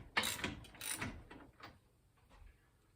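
Bottom bracket being loosened on a Trek 8700 composite bicycle: a few close, quiet ratcheting clicks and metallic creaks in short bursts, fading into near silence.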